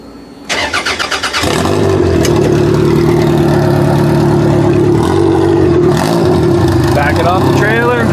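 A demolition derby car's engine cranks with a rapid chugging starter, then catches and roars into a loud, rough idle with bursts of revving, very close and alone.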